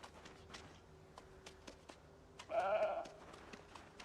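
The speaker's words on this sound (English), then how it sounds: "Got the slowest growing sheep" A sheep bleats once in a survival video game, a single loud, drawn-out bleat standing out over quiet game ambience with soft clicks and taps around it.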